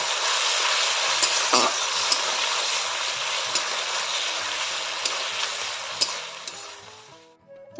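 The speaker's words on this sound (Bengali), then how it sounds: "একটু ভালো করে মশলাটা কষিয়ে নিলাম তো কষিয়ে নিচ্ছি" Stale fish frying in a spice masala of ground onion, ginger, cumin and tomato in a home kitchen, a steady close sizzle with occasional stirring clinks and scrapes, fading out at the end.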